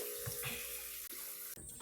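Water runs steadily through a home espresso machine being cleaned, a continuous close hiss and trickle that holds for about two seconds with a couple of brief dips near the end.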